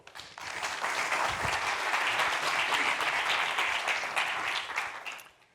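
A conference audience breaks into sustained applause as a speaker on gene-edited humans is welcomed to the stage, dense clapping that rises quickly, holds steady for several seconds, then fades out.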